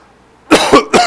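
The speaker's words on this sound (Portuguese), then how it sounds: "Desculpa da minha tosse, gente." Two sharp, close coughs in quick succession after a brief quiet moment.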